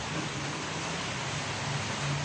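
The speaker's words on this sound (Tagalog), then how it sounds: "Ngayon, umuulan, di ka sumisilong." Steady rain falling outdoors in a home garden with potted plants, a continuous broadband hiss at even loudness with no breaks, close and fairly soft, heard alone without talk.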